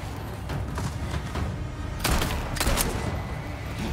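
Gunshots fired around a corner in Resident Evil 4 ring out over a dense game soundscape, with two loud, close bursts standing out midway and a steady clatter continuing to the end.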